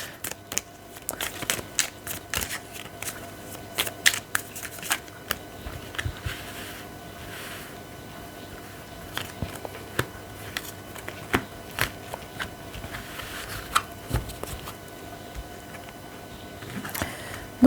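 Oracle cards are shuffled and handled by hand in short, crisp clicks and riffles, scattered irregularly over a quiet background, close and fairly soft.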